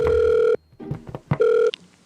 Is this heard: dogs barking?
no